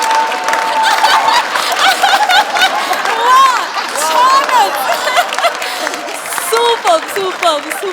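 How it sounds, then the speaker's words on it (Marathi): Studio audience on a Marathi comedy show applauding and laughing, a dense wash of clapping mixed with chuckles and crowd chatter, with a host's voice speaking over it throughout. "जोरदार टाळ्या सगळ्यांसाठी"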